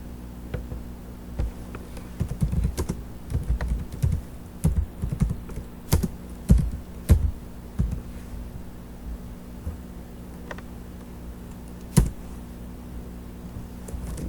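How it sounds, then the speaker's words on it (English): Keys tapped on a computer keyboard while entering commands in Kali Linux, irregular bursts of close, crisp clicks with short pauses and a few louder isolated strokes over a faint steady hum. "I'll go ahead and type run and click enter"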